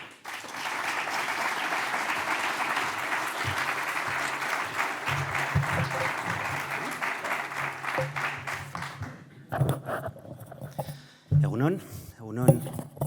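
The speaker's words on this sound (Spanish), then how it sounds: "Un aplauso para él, por favor." An audience at a forum applauds in a steady, dense burst of clapping that fades after about nine seconds, followed by scattered claps and a few sharp knocks close by.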